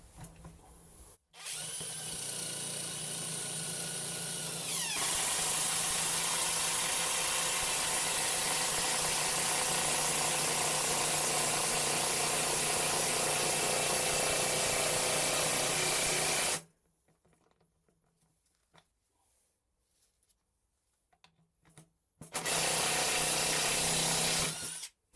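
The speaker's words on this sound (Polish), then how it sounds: "I teraz wkręt 160 na 8. Przebijemy tą krokiew, wbijemy w ten stół roboczy." A Drillpro 18V cordless impact wrench rated at 2200 Nm drives a 160 mm by 8 mm screw through a wooden rafter into a workbench. The loud, sustained hammering whine lasts about fifteen seconds, stops, and then a short second burst follows.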